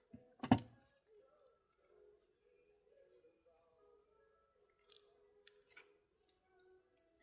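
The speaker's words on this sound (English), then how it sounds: "we're going to snip it off in back" Scissors snip thread at the back of a beaded craft piece: one sharp, close cut near the start, then faint handling clicks and light rustles while a quiet voice murmurs in the background.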